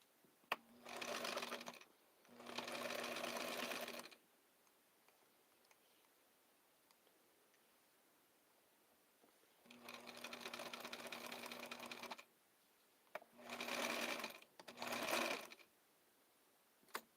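A sewing machine stitching blue and black cosplay fabric runs in several separate bursts of steady rapid mechanical whirring, with quiet pauses and small clicks between runs.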